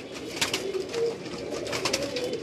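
Pigeons on a Karachi rooftop cooing softly in a low, rolling murmur amid faint outdoor background noise, no talking.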